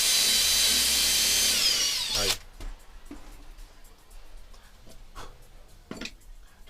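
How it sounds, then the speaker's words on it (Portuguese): A power drill bores into a wooden piece for a hexagonal telescope tube, whining loudly and steadily for about two seconds before stopping, followed by quieter handling knocks and clicks. "Eu vou furar só até no risco."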